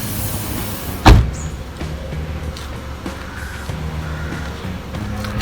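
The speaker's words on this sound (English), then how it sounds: "close the door." A car door shuts once with a sharp, solid thud while the interior blower motor runs at its maximum setting, leaving a steady low hum before and after the slam.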